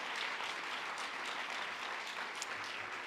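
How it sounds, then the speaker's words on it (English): An audience at the Mayor Aftab 2025 State of the City address applauds steadily, a dense wash of many hands clapping from a sizable crowd, moderately distant and sustained throughout. "Let's give them a round of applause as well."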